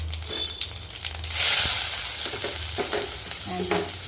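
Cauliflower paratha frying in oil on a pan, a close, steady sizzle that jumps louder partway through, then keeps crackling with a few light scraping stirs.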